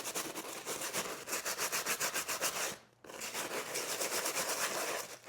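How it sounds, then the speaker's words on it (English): A wet brush scrubs a waxed canvas jacket in quick, rhythmic back-and-forth strokes, loud and close, with a brief pause near the middle before the scrubbing resumes; no one speaks. "Just get it a little wet and scrub some."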